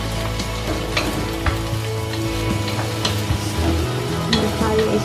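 Egg fried rice being stirred in a hot pan on a strong flame, a steady loud sizzle with scraping stir strokes throughout, no talk.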